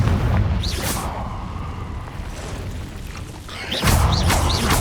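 A Confringo blasting spell in the Hogwarts Legacy video game goes off in a cave, making deep booming bursts with whooshing magical tones, one at the start and another near the end.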